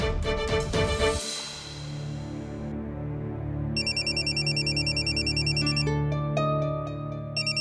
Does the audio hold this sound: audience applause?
no